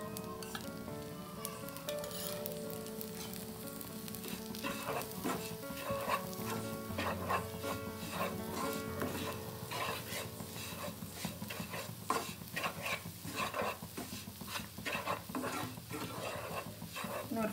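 A spoon stirs aval puttu, flattened rice with ghee, in a hot pan, making steady scraping and soft sizzling with clinking against the metal. The sound runs continuously and close, with no talk over it.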